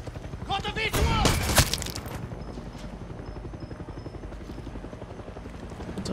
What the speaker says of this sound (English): It's obviously a helicopter.